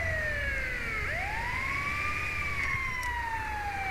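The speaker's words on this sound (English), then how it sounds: "Oh, we've got a fire engine." Fire engine siren in GTA V, a loud wailing tone sweeping down then rising and holding steady, close and alone over low road rumble.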